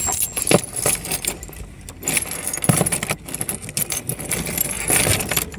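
A car key blade is pushed into the trunk lock of a Honda Accord, giving close metallic jangling and clicking from the key ring in several bursts over a faint outdoor background.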